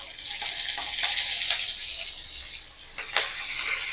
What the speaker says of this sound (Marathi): तेल घालून घेतलेलं आहे, त्यात घालणार आहोत मोहरी. मोहरी छान फुलली की आपल्याला घालायचे जिरं.